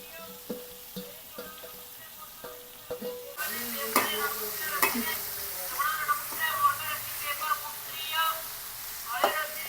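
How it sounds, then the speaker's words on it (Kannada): Onions are dropped into a hot pan and fried, with a soft sizzle rising after a few light taps, then stirring scrapes and clinks recurring irregularly nearby. "ಸ್ವಲ್ಪ ಹಿಂಗೆ ಫ್ರೈ ಹೊಡ್ಕೊಳ್ಳೋಣ್ರಿ"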